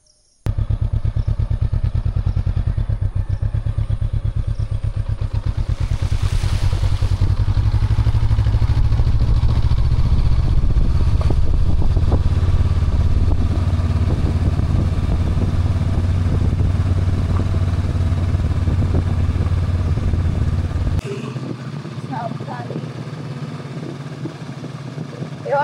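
Honda NX500 motorcycle ridden on a rough track near Kankrajhore, a loud continuous engine drone with clattering bumps that drops to a quieter idle near the end.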